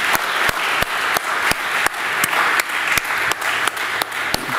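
An audience at a general assembly of a global editors' network claps for the staff, a dense steady round of applause with sharp rhythmic accents roughly every third of a second, as if many hands fall into unison.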